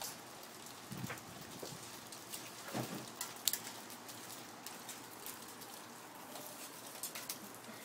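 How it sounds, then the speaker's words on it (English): Rain falls steadily with small hail mixed in, a soft continuous patter broken by scattered sharper ticks and taps of hailstones striking nearby surfaces, fairly quiet and with no talking. "Whoa, hail."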